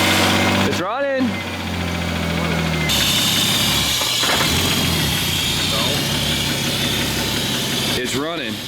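A Nissan R33 with a swapped RB25DET engine idles steadily after a cold start, its low, even rumble running throughout with a brief starter-like burst near the start and voices talking over it.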